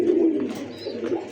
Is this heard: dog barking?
no